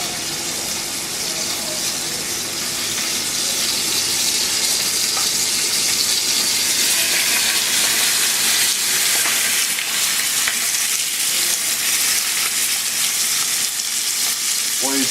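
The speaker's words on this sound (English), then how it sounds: "And start frying up the chicken." Chicken pieces frying in oil in a pot, a loud, steady, crackling sizzle with occasional stirring clatter, continuous and close throughout.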